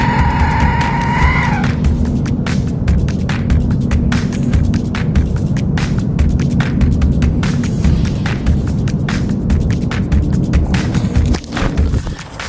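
An Aztec death whistle is blown loudly, a brief harsh tone giving way to a continuous roaring, rasping shriek full of crackling bursts that holds for about ten seconds before cutting off near the end.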